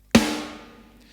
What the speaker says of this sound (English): a lot of deathcore, not all of it, has that really kind of industrial, clanging, sustained ring on the snare